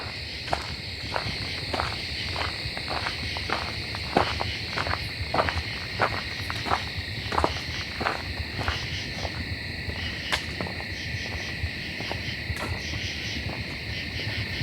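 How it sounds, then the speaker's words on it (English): Dense, steady chorus of katydids rings out in a dry swampy area during drought, layered with footstep-like crunches and faint tree frog calls beneath, continuous and moderately loud throughout with no talking. "So many katydids."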